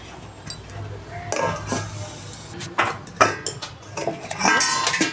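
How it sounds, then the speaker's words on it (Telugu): A plate is set over sorghum pancakes cooking in a pan, giving light clinks and scraping knocks of crockery against metal, scattered and moderately close over a soft background hiss. "ఇప్పుడు మనము వీటిపైన ప్లేట్ పెడతాము"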